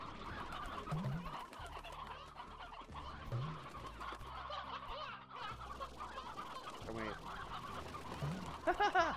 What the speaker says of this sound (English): it looks like we've got like two roosters broken out